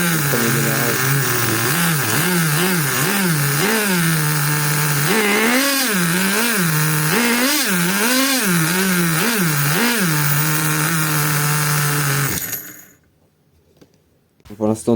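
A nitro-fuelled RC model engine buzzes loudly and steadily close by, its pitch rising and falling through repeated throttle blips, then cuts out abruptly, leaving near silence.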